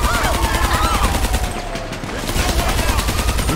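Rapid automatic gunfire in GTA 5 rattles on continuously and loudly through a street shootout with police, with a brief dip in the middle before the shooting resumes at full intensity.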